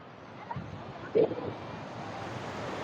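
Water pouring over a dam near Dhanbad, Jharkhand, with a steady rushing wash like surf blended with wind, a brief louder burst midway, and a crowd of visitors around.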